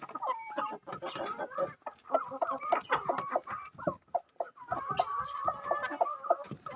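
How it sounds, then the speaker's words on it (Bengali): Kadaknath and desi chickens cluck continuously and close by while pecking at fresh greens, with many overlapping calls and busy flock chatter throughout and no talk. "দেখো কেমন খাচ্ছে দেশি মুরগিগুলো, করকনাথগুলো"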